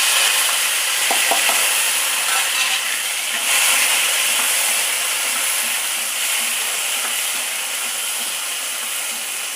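Tomatoes frying in a pan with fenugreek seeds and curry leaves for a South Indian lunch dish, a steady loud sizzle and hiss that continues throughout with a few faint stirring clicks and no talking.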